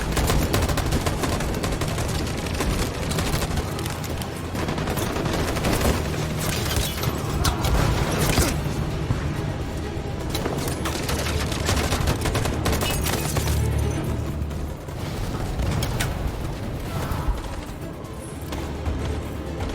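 Soldiers firing in the video game Detroit: Become Human, loud sustained bursts of rifle and machine-gun fire with booms, dense and continuous throughout.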